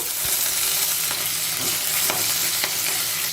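Mustard seeds, cumin, chopped green chilli and curry leaves crackle and sizzle in hot oil for a spice tempering, a steady close fry with brief spatters and stirring sounds and no talk.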